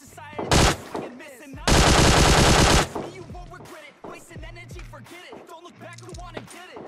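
Loud bursts of rapid automatic gunfire in PUBG Mobile, one short and one sustained, followed by scattered single shots and impacts, close and sharp.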